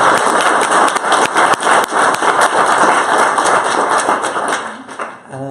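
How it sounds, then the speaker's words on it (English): An audience at a talk applauds, a dense, steady patter of many hands clapping for several seconds before thinning out at the end. "perhaps we'll all join in applause for our organisers, Anna and Harry."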